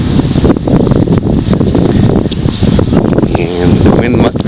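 Strong wind buffets an outdoor microphone at an apartment complex with pitched roofs, a constant loud rumbling roar with gusty rustling throughout, while a person talks over it.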